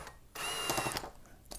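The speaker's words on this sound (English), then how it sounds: "here you can simply see I'm just using my drill machine" A power drill runs loud and continuous for about half a second while backing screws out of a Vizio M50-C1 LED TV, then stops. A faint mechanical hum comes before and after.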